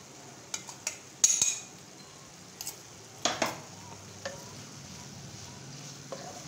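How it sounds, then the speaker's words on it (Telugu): Eggplant pieces are stirred with peanut spice powder in a pan on the stove; a spoon scrapes and clinks against the pan in irregular bursts over a faint sizzle. "పల్లి కారాన్ని వంకాయ ముక్కలకు పట్టేలా ఇలా మిక్స్ చేసుకుందాం."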